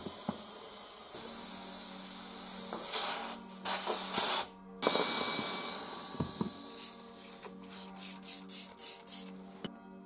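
Compressed air hisses from a hose as it inflates a tire on a Daelim VS 125 chopper motorcycle, with sustained loud bursts broken by brief stops, then a run of short rhythmic puffs near the end, no talking.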